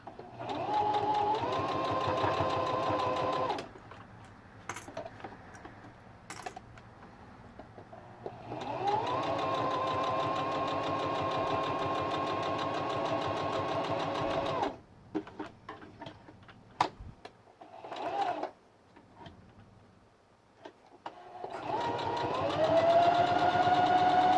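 A sewing machine adjusted for heavier fabric stitches a fabric face mask in long, steady, close runs of humming, rapid ticking, broken by pauses filled with clicks and handling noises.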